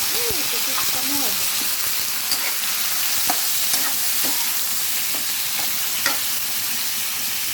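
Shrimp fry in hot oil in a pan for sotanghon soup, a continuous close sizzle with repeated scraping and clinks of stirring, and a voice briefly heard over the cooking.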